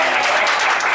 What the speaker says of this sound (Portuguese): Uma salva de palmas para o Valdir.